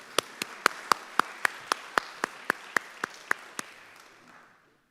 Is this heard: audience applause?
yes